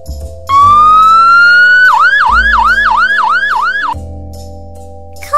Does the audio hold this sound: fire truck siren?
yes